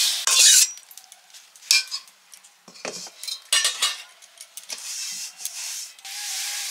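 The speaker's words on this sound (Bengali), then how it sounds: "ডালটা একটু ভেজে নিচ্ছি" Moong dal dry-roasting in a pan, a steady dry scraping and rubbing as a spatula stirs the lentils, with sharper utensil scrapes coming in bursts, close and fairly loud, no talk.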